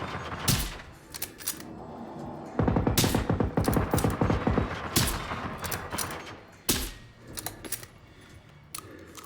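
Rapid bursts of gunfire from the video game Generation Zero, with sharp repeated shots clustering into a dense volley mid-clip and scattered single cracks before and after, fairly loud and up close.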